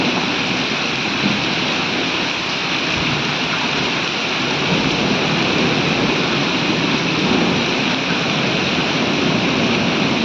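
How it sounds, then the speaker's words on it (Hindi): A downpour of heavy rain and hail beats on open cropland in a constant, loud wash of noise, steady and close from start to finish, with no one talking. "आज देखो बारिश हो ही गई।"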